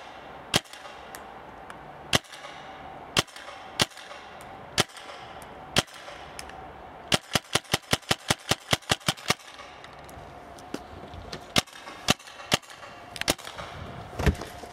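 A Tippmann A5 paintball marker with a 16-inch barrel firing sharp, snappy pops, first as spaced single shots and then as a fast string of about a dozen in a row, before going back to single shots. The shots are close and loud, with no talking.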